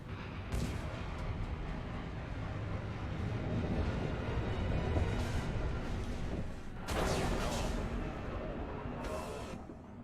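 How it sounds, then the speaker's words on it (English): Explosions in the sci-fi shooter Mass Effect 2 roar through a continuous loud rumble, with several heavy blasts bursting out over about ten seconds. "Cool guys don't look at explosions."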